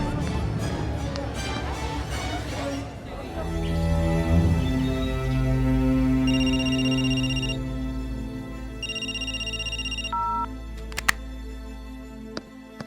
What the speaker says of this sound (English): I thought I heard it ringing